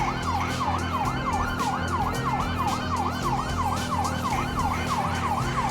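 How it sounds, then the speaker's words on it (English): Wailing police siren from the video game GTA 5, a rapid repeating up-and-down yelp cycling steadily over a low engine rumble, loud and continuous with no talk. "I don't think they can hear the sirens."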